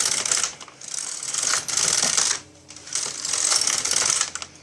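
A Knitmaster/Singer LK100 knitting machine carriage slides back and forth across the needle bed, giving a loud mechanical rasping whir with clicking in three long passes separated by brief pauses.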